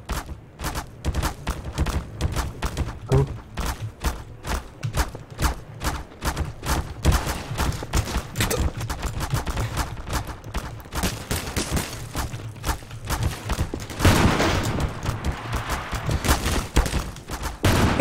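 Rapid volleys of gunfire in Garry's Mod PrisonRP, sharp close shots cracking out in dense bursts with short gaps, growing heavier near the end.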